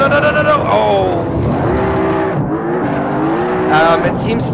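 A Mercedes C63 AMG in the Assetto Corsa racing game is driven sideways, its engine revving hard while the tires squeal in long wavering screeches, loud and close throughout, with a voice briefly talking over it.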